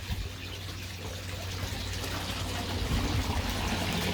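Water leaks from a loose screw joint on a koi pond filter, a continuous splashing trickle that swells slightly toward the end over a low hum.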